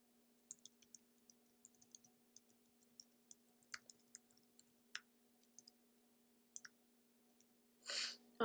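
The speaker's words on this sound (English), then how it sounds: "I'm actually going to type that in here." Scattered keystrokes on a computer keyboard, soft irregular clicks at close range over a steady low electrical hum, with a brief louder rustle near the end.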